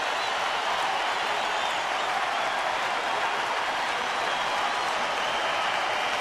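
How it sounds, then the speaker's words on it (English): A baseball stadium crowd cheers and applauds steadily through a bases-loaded jam in the 8th inning of a Dodgers game, a dense, even roar of many voices and claps with no announcer talk on top. "the crowd now trying to help Kershaw get out of the jam"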